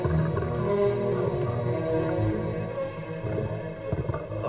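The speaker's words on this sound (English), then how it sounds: "She was also very interested in the hydrophone and took the opportunity to make her minke sounds." Minke whale vocalizations picked up by an underwater hydrophone: low tonal moans and grunting pulses with harmonic bands, fairly loud and continuous, ending in a few knocking bursts.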